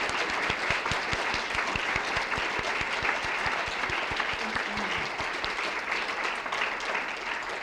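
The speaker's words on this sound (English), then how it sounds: "Why don't we applaud for all three of these wonderful writers?" An audience applauds writers after a reading, with steady, dense clapping and sharp individual claps standing out throughout, continuous and fairly close.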